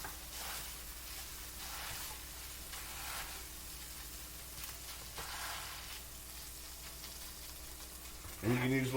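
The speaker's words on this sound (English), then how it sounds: "Gonna let it heat up for a little bit, let the heat get to the cream cheese and kind of start to try to melt down." Cream cheese heats and melts in a pan with a low, steady sizzle that runs throughout, close, with a brief louder scrape or clatter at the end.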